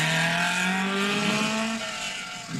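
Alfa Romeo rally car on the 1958 Coupe des Alpes, its engine note rising steadily as it accelerates hard and holds a loud, continuous drone close by, then easing off near the end.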